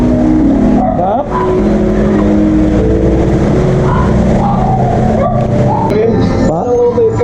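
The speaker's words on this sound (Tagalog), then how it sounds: "gusto mo marinig yung makina? Ha? Gusto mo marinig? Start ko." A Toyota Innova engine idles loudly and steadily, with a voice talking over the running motor throughout.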